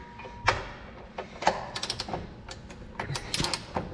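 A wrench is hauled on to torque a planter bolt to 145 foot-pounds, giving scattered metallic clicks and knocks in uneven bursts, close and moderately loud, with faint background noise between them.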